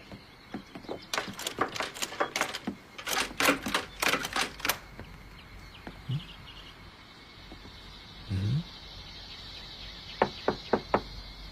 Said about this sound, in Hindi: Knock knock.